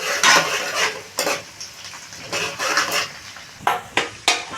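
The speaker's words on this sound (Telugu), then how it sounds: "పచ్చిమిర్చి ఎల్లుల్లిపాయ అనేది దోరగా ఫ్రై అవుతున్నాయి" Green chillies and about ten garlic cloves fry in hot oil in a pan, a loud close sizzle broken by repeated bursts of stirring and scraping, with no talk.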